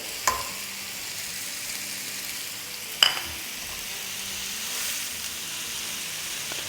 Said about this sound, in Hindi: और अब इसमें डाल देंगे आधा कप ऑमलेट कट अनियन